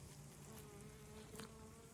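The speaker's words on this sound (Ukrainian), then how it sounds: "бджоли як кружляють" Steady, continuous buzzing of bees hovering close by over flowering meadow plants in a forest clearing, a constant hum with a brief louder pass midway and no voices.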